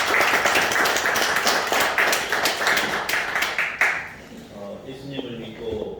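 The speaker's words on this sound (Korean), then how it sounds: "박수로 하나님께 영광 돌리겠습니다." A church congregation applauds together, a dense burst of clapping that fills the room for about four seconds, then fades into quieter room sound with a few scattered claps.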